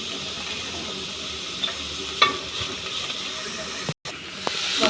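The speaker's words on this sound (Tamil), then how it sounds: "நல்லா கலக்கி தேவையான உப்பு போட்டுக்கலாம். வெங்காயம் அப்போ தான் நல்லா வேகும்." Onions with salt fry in a pan, giving a steady close sizzling hiss with occasional soft scraping from stirring and a brief cutout near the end.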